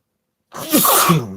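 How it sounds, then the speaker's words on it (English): After a moment of silence, one loud, close sneeze bursts out and trails off. "I think I'm gonna sneeze"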